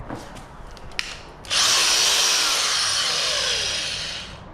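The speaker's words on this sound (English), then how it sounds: "As you can see, I got the drill right here." A Black & Decker power drill starts up after a few faint clicks and runs steadily at high speed, loud and close, slowly winding down near the end.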